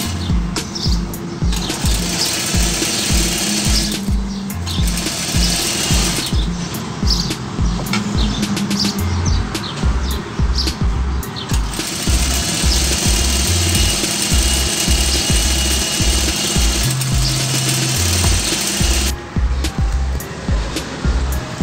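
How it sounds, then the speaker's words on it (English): A sewing machine stitches a seam on a pleated salwar in loud, close, continuous runs of rapid rhythmic stitching, broken by brief pauses, with no talking. "Now give one more stitch over it so that your stitch line will be more stronger"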